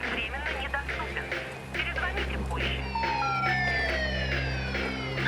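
Police car siren effect played by an RGB studio light, rising wailing tones that sweep upward over a low steady hum, sounding alone without talk.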